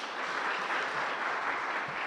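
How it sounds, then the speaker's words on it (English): An audience at a nutrition project closure event gives a round of applause, a dense, even patter of clapping that holds steady for a couple of seconds. "A better round of applause for the great team."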